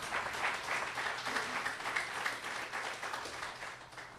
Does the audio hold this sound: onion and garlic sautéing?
no